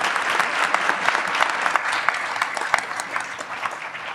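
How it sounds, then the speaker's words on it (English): Audience at a city council candidate forum claps steadily, a full room of hands applauding in a dense, even patter that tapers slightly toward the end. "Yes, you can clap."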